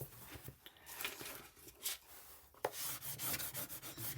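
An old plastic credit card rubs and scrapes across a sheet on a jewelry display board, giving close, quiet, uneven scratchy strokes with short pauses between them.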